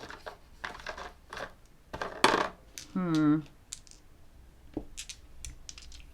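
Small polyhedral tabletop gaming dice clatter and click as they are tossed into a storage box, several sharp scattered clicks with a brief rattling burst, fairly close.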